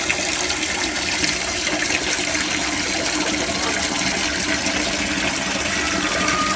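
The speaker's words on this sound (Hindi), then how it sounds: "ये देखो इनके बर्तन में ताज़ा पानी भर के देती हूँ" Fresh water gushes steadily and continuously into a chickens' drinking bowl, a close, full, unbroken splashing and rushing with no talking over it.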